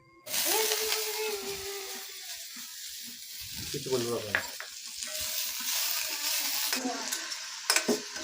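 Vegetables frying in a pan for khichuri in a village kitchen give a close, continuous sizzle broken by scraping stirs, with faint voices and a cough now and then.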